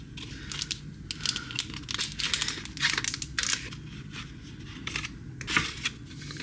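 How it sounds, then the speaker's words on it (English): A Pokemon card pack's foil wrapper is torn and crinkled by hand, bursts of close crackling and ripping in an irregular rhythm over several seconds. "And I'm ripping it still."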